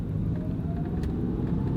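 An 18-year-old used SUV engine idling steadily, a low continuous rumble heard up close with no talking.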